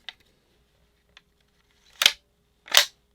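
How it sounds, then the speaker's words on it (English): A Ruger rifle bolt slides and drops into place after faint small clicks, giving two sharp, close metallic clacks about a second apart in an otherwise quiet room. "But now when I slide the bolt,"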